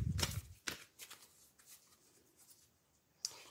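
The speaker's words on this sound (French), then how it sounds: "On va prendre une carte du jeu de loi d'attraction." Cards from a law of attraction oracle deck being shuffled and drawn, giving a few soft papery riffles and flicks, close and quiet, with no talking.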